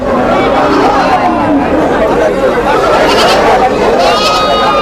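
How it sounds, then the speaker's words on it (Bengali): Goats bleat among a crowd at a busy livestock market, several overlapping calls near and far under steady chatter from many people. "ছাগল দেখতে পাচ্ছি"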